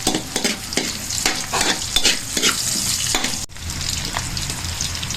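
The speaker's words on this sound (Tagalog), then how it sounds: "Lagay na natin ang sibuyas." Chopped onions sauté in a hot pan as the start of beef caldereta, a steady loud sizzle and frying hiss broken by rhythmic scrapes of stirring, close-up, with no talk.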